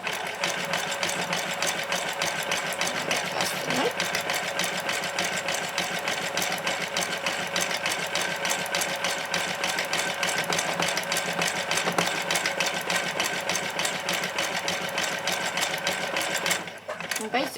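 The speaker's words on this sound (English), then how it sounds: "I'm just going to keep going until we've got the whole leaf shape covered in stitching." Sewing machine stitching fabric to fill a leaf shape on a Christmas dress, a rapid continuous mechanical chatter running steadily and close for the whole stretch, with a brief dip near the end and no voices.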